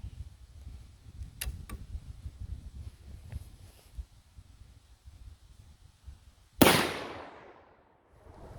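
One sharp, loud 454 Casull revolver shot firing a 78 grain bullet cracks outdoors after several seconds of wind and light rustling, its echo tailing off over about a second.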